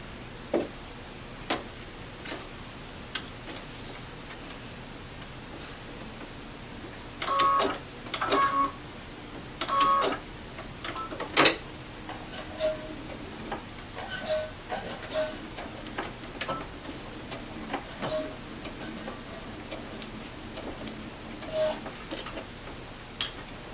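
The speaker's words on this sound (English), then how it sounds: "I have already marked my scant 1/4 inch and I am ready to sew." A sewing machine stitches quilt blocks at a scant quarter-inch seam in short bursts of fast mechanical ticking, separated by pauses and light clicks, close and moderately quiet.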